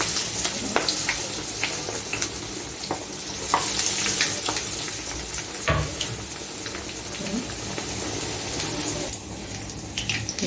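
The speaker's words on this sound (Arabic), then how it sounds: "احط بقى زيت غزير وهبدا احمرها" A crispy shawarma roll fries in plenty of deep oil in a pan, giving a steady close sizzle with scattered crackles and pops throughout and no voices.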